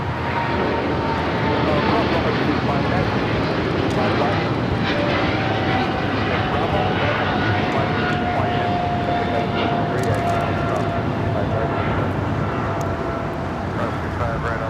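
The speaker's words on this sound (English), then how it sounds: "This is British Airways Flight 280 taking off to London Heathrow on the 777-300ER" A British Airways Boeing 777-300ER taking off from runway 25 at Los Angeles LAX, its engines a loud, steady broadband roar that holds throughout, with faint rising tonal whine and occasional talk over the top.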